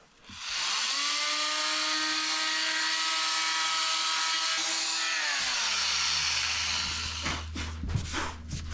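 A power sander with 60 grit sandpaper works over the wooden brightwork of a boat, a loud, steady whine that holds for about five seconds, then drops in pitch and winds down, leaving a low hum and a few knocks.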